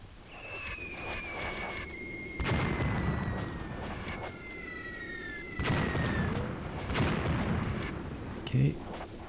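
Artillery fire in the war game Graviteam Tactics, on the Luga Line at Peleshi: heavy booms and blasts land in bursts amid rumbling battle noise and whistling tones, loud and continuous across the stretch.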